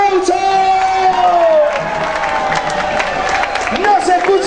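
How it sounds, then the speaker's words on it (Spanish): A crowd at a school integration-week event cheers and shouts loudly and continuously, with whoops and some clapping mixed in, plus a sustained whistle-like tone early on. "¡Fuerte el aplauso!"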